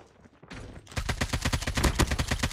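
NA-45 automatic weapon fire in Call of Duty battle royale: a rapid, steady burst of loud close-range shots that starts after a short lull and hammers on to the end.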